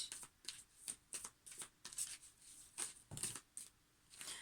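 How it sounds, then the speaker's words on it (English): Tarot cards are shuffled by hand close up, quiet riffling bursts repeating in an irregular rhythm, with light flicks and taps between them and no talking. "there's too many cards, so I'm going to shuffle again"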